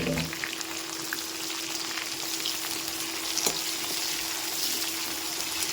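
Two large sliced onions frying in oil in a pan, giving a dense, even hiss of sizzling that stays steady throughout at moderate loudness, with no speech.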